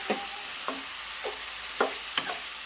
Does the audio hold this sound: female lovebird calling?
no